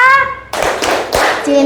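Children clapping out the Tepuk Panca Cinta chant in a classroom, a few sharp group claps in rhythm between bursts of voices.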